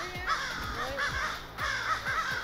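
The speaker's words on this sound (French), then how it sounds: "il y a plein de corneilles qui gueulent" A flock of crows caws loudly and repeatedly in overlapping harsh calls outdoors. The calls come in uneven bursts over a steady background hum.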